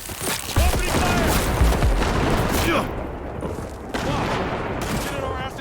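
Gunfire crackles through a firefight in the game Cyberpunk 2077: Phantom Liberty, set in Dogtown, with rapid bursts and heavy booms layered under shouting combat voices.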